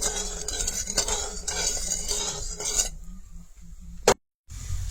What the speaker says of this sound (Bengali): চিনিটা আড়াচাড়া করে ওরকম চিনিটা গলাই